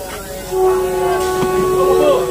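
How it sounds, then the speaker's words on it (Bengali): On a local train from Goalpara to Guwahati, a horn sounds a single sustained, steady tone lasting about two seconds before departure, heard close over a low station hum. "আমাদের ট্রেন সিগন্যাল দিয়ে দিয়েছে, ট্রেন ছেড়ে দেবে এখন।"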